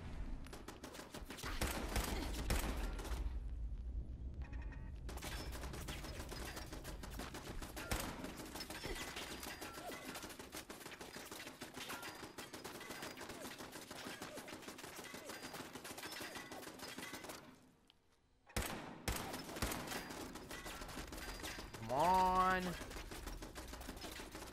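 Turret gunfire from Fallout 4, rapid bursts running on and off through most of the stretch, dropping out briefly near the end, with game effects mixed in.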